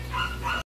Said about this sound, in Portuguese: já varri a casa e o cachorro continua latindo